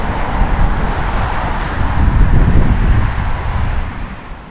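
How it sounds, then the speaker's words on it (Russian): Strong gusty wind buffets the microphone while riding a bicycle on the way to a flea market, a loud continuous roaring rush that swells and eases, with no speech. "Просто еще ветер поднялся в 2 раза."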